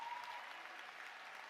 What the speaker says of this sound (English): Let's give them a very well-deserved round of applause